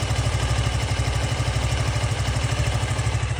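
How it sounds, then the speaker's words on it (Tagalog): A Suzuki V-Strom 160 motorcycle engine idles after a six-hour ride, a steady, close, even low putter with no talk over it. "Pero ito yung tunog ng makina after long ride."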